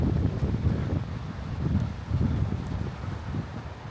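Strong, cold wind buffets the microphone outdoors beside a road on a hiking trail, a low, gusty roar that rises and falls in waves with no one speaking.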